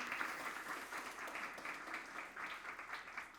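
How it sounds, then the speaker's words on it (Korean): Steady applause from a church congregation, continuous and fairly even for a few seconds with no voices over it. "우리 격려의 박수 한번 크게 보내겠습니다."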